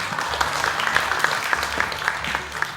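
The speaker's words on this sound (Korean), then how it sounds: "박수로 맞이해주세요" A live audience applauds to welcome a speaker onto the stage at a staged reading performance, giving steady, continuous clapping with a few sharper claps standing out and no talk over it.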